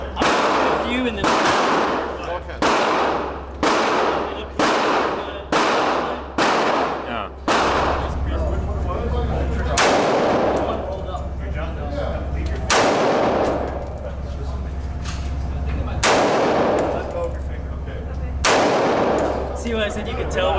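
Rifle and pistol gunshots at an outdoor gun range: a rapid string of sharp, loud cracks, then slower, heavier single booms spaced a couple of seconds apart, each with a ringing tail, all close by.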